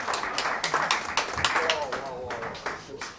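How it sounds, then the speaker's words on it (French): A banquet audience at a sports awards dinner claps for an African champion, a brisk patter of many hands at moderate distance while someone speaks over the applause. "On applaudit très fort pour ce maître."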